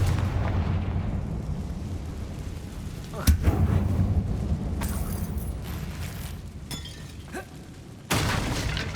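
A Confringo fire spell bursts inside a closed mine in Hogwarts Legacy, giving a sudden crackling blast that rolls into a low rumble over steady dark ambience, followed later by a second abrupt surge.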